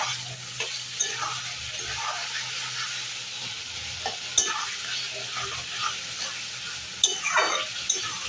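Fried potatoes sautéed in a pan with tomato, green chili, garlic and chopped onion, giving a steady close sizzle with repeated scraping stir strokes and a few sharper clinks. No one speaks.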